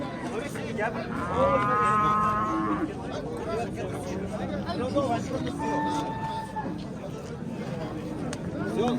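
At a cattle market in Besharik, a cow gives a long, loud moo close by, with another lower moo following later, over the busy chatter and talk of people nearby.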